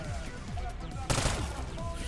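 Rapid bursts of gunfire from a buffed weapon in the video game Black Ops 6 Zombies, a steady fast rhythm of shots with a louder blast near the middle, moderately loud and without talking.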